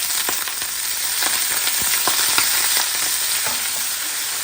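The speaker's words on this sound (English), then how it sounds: "and I'm just going to browning on each side" Goat meat browning in a hot pan with spices, a steady dense sizzle and fry with scattered crackles and pops throughout, close and fairly loud, with nobody talking.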